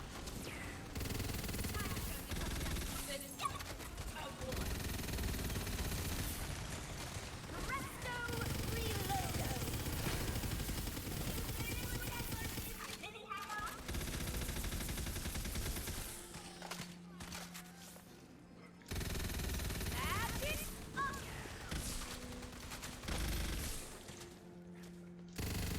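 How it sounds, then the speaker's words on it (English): An ice SMG fires in Tiny Tina's Wonderlands as dense rapid bursts of gunfire, with brief pauses and game effects in between, running under people talking. "Ice SMG go burr."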